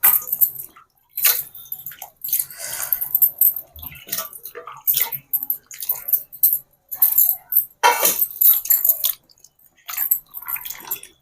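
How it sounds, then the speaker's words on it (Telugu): Ivy gourds are washed by hand in water, with repeated splashes, drips and sloshing in irregular bursts, close and fairly loud. "ముందుగా దొండకాయలన్నీ కూడా నీళ్ళల్లో వేసి శుభ్రంగా కడగాలండి."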